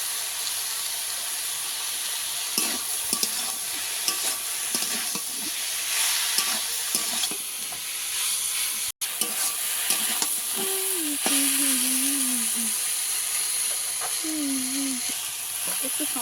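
Boiled greens (saag) with a little turmeric fry in a wok, giving a loud continuous sizzle and hiss with repeated stirring scrapes throughout and a brief gap near the middle.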